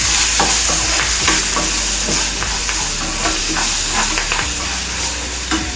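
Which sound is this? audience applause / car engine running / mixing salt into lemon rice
mixing salt into lemon rice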